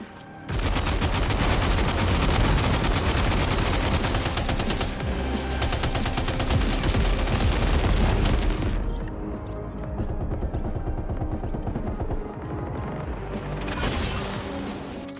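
Rapid automatic gunfire in Death Stranding 2: On the Beach, a loud, dense burst of shots lasting about eight seconds, then sparser, quieter shots and mechanical clicks as the firing thins out.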